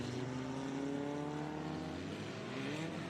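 Vintage race cars in an SVRA Group 2 race at Mid-Ohio roar steadily on the final lap, engines droning loud and close with rising and falling pitch as they pass.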